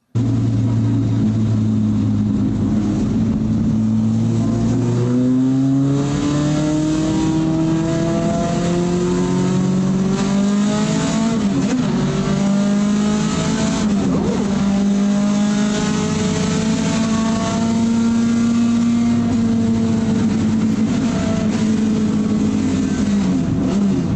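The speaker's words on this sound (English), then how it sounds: "So I'm driving a 510 Datsun that I've never driven before" A Datsun 510 engine pulls hard through second and third gear, its loud, continuous revving climbing in pitch and dropping at each shift, with tire noise beneath and no talking.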